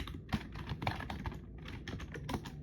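A command being typed on a computer keyboard, a quick, close run of soft key clicks with one short pause midway, steady and fairly quiet.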